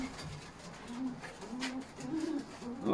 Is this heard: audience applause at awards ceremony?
no